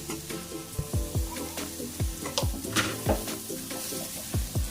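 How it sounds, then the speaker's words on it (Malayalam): Two chopped tomatoes hitting frying masala for a vegetable pulao, a soft steady sizzle under repeated rhythmic spatula scrapes and light pan knocks, close and moderately quiet, with no talking. "ഇതിലേക്ക് നമ്മൾ കട്ട് ചെയ്ത് 2 തക്കാളി ഇട്ട് കൊടുക്കാം."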